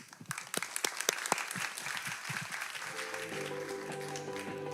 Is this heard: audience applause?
yes